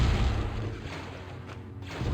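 A cannon overloading and blowing up in the video game Star Wars: The Clone Wars, a dense, rumbling boom that rolls on and slowly fades, then picks up again near the end.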